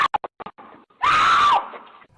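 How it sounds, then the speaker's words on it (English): A young woman screams loudly as she fights off a male attacker. A single sustained, piercing scream of about half a second follows a few short, sharp bursts of sound. "A young woman screams for her life and fights off a man in this video"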